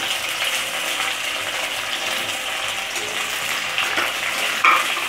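Soybean chilli with chopped capsicum stirred in a pan, a steady close scraping and rattling of utensil against the pan over a constant frying hiss, with no talk.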